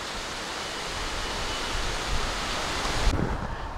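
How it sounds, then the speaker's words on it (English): Surf at Alma Beach on the Bay of Fundy shore, a broad continuous wash of waves mixed with wind buffeting the microphone, loud and steady without a break. "right across the street is where you get to the beach. It's called Alma Beach. It says, "Welcome to the Fundy Shore,""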